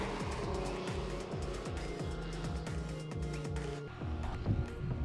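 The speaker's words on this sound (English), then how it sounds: "the exhaust just kind of crackles and makes popcorn sound" A Nissan 350Z / Infiniti G35 with a Magnaflow exhaust revs hard through repeated rising gear pulls, its exhaust roaring loudly and close before dropping away, followed by a few brief crackling pops.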